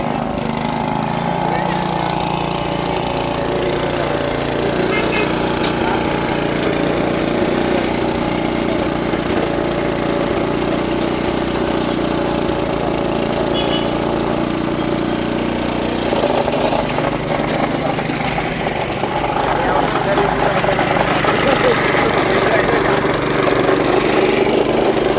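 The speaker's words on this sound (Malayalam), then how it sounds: "Weed cutter, garden tiller, power tiller എന്നിവ ഉപയോഗിക്കുന്നതിലായിരുന്നു പരിശീലനം." A small petrol engine on farm equipment, a weed cutter or power tiller, runs steadily at a farmers' training session. It drones continuously under background noise, and its pitch rises a little near the end.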